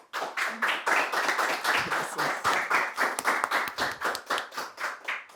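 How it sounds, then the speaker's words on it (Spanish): An audience claps for a speaker after a talk on the family as a public good, a loud, close round of applause with individual claps standing out in a bouncy rhythm that thins toward the end. "Le damos un aplauso."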